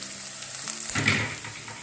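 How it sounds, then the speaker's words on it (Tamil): Onions, curry leaves and green chillies frying in a pan, a dense close sizzle that swells briefly as the mix is stirred, with no talk. "இப்போ வந்து வெங்காயம் நல்லா வதங்கிடுச்சுங்க."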